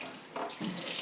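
Water from a sink tap runs briefly over a glass vase being rinsed, a short, faint splashing gush that shifts in tone as the stream strikes the glass.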